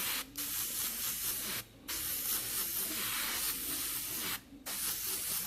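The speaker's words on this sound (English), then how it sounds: "I'm probably applying this with the airbrush around about 4 to 5 inches away" An airbrush sprays paint onto a realistic skull piece from about four to five inches away, a steady close hiss in long bursts with three brief pauses.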